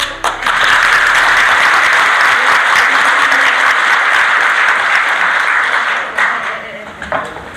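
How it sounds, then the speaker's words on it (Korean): A crowd at a National Assembly public hearing breaks into sustained, loud applause that holds steady for several seconds before tapering off. "자, 박수."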